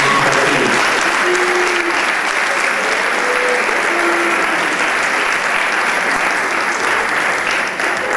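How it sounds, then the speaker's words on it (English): A ceremony audience at the 2015 Penn State Altoona Athletics Recognition Ceremony claps for Chi Alpha Sigma inductees, a steady, dense roomful of applause that holds for about eight seconds without a break. "Let's have a big round of applause for the Chi Alpha Sigma inductees."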